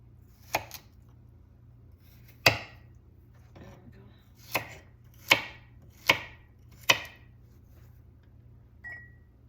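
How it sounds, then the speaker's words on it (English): Sharp knife chops on a cutting board while vegetables are cut for a salad, about seven distinct strikes spaced irregularly over several seconds, close and clear against a quiet background. "kind of chop it up. It makes it better for me."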